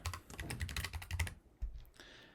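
Close computer keyboard typing while entering code, a rapid burst of key clacks with soft thumps that pauses briefly, then a few more keystrokes, with no talking.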